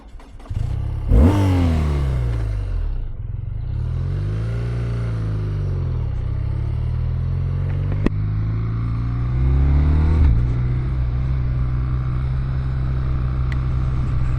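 A BMW R12 motorcycle with a boxer engine is ridden, its exhaust note rising and falling in pitch through several rev changes and gear shifts, loud and continuous under wind rumble, with no voices.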